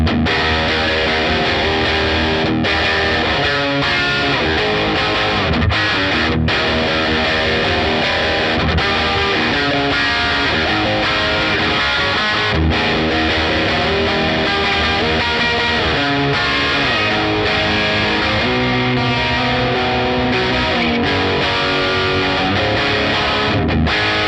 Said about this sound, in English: Let's move across to lead now, and let's drop the gain back down to just under halfway.